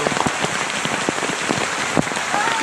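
Water spatters steadily like rain at Nabaroto Falls, a dense, continuous patter of droplets hitting rock and water close by, with no talk over it.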